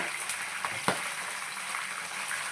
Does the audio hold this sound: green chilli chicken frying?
yes